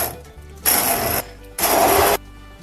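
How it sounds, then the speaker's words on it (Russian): An electric blender grinds a dry spice mix of salt, paprika, sweet pepper, black pepper and coriander in two short, loud bursts of whirring noise, each lasting about half a second, with a quiet pause between them. "И теперь все это пробиваем блендером"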